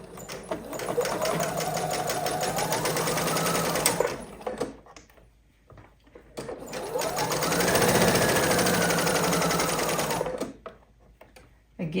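A sewing machine stitches a fabric dog bandana in two long whirring runs. Each run builds to a steady rattling hum, then stops, with a short quiet pause between them.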